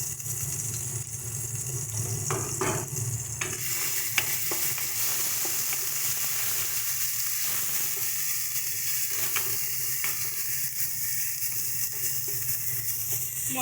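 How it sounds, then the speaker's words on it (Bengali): A spice paste with dried chili powder and salt fries in a pan on low-medium heat, a soft, even sizzle with occasional scraping taps of stirring. "মশলাটাকে আমরা লো টু মিডিয়াম স্টিমে ভালো মতো করে কষিয়ে নেব"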